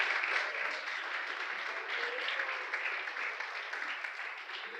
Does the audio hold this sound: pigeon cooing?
no